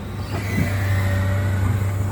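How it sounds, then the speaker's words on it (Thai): Komatsu PC200-8 excavator diesel engine running at a steady idle, a low constant rumble with a faint hum above, close by and alone. "เครื่องยนต์ก็เป็น เครื่องยนต์โคมัสึครับ"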